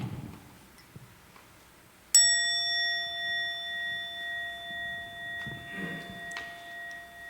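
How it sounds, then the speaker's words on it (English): A monastery bell rung for morning meditation gives one clear metallic strike followed by a long shimmering ring that slowly fades, with a faint second tap near the end, in a quiet space. "The bell rang."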